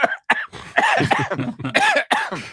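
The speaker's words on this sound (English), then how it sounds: "sorry, I have a cough." A person coughs several times in quick, harsh bursts, close up, with a bit of throat clearing between.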